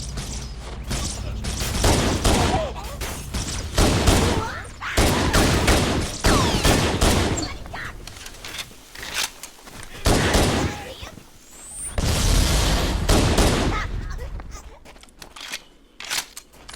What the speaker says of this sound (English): This pistol is much more powerful than the assault rifle.